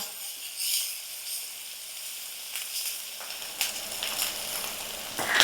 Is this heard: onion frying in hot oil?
yes